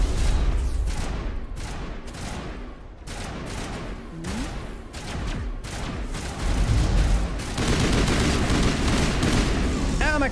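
Repeated gunfire and booms during a Mass Effect firefight, bursts of shots that come and go and then build into heavier fire, loud and close, with voices talking over part of it.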